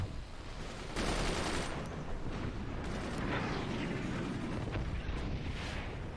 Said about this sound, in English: The cannon penetrates deep, leaving the core exposed and undefended.